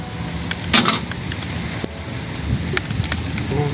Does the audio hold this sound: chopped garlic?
no